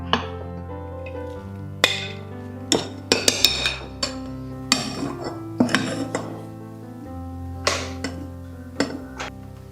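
Mango pieces being mixed in a bowl for fenugreek mango pickle, a run of irregular metallic clinks and taps from a spoon against the vessel, close and clear with no talking.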